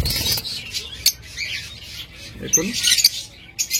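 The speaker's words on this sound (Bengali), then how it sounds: "লুটিনো রেড আই ফিশার জোড়া, চমৎকার pair lutino red eye fisher" A pair of lutino red-eye Fischer's lovebirds giving shrill, rapid chirps and squawks in short bursts, close up, while someone speaks briefly.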